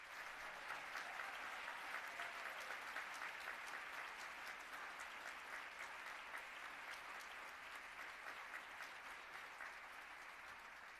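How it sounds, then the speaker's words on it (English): Long, steady applause fills a hall at a Women of Courage awards celebration, many hands clapping at an even, moderate distance without letting up. "please join me in another round of applause"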